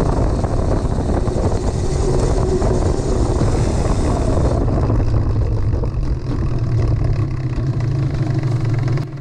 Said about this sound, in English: the joint in the CV axle came apart as it came around that corner